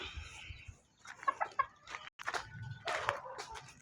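A red junglefowl rooster and hens cluck in a short burst of calls, fairly close, with a brief crowing-like sound partway through amid farmyard noise.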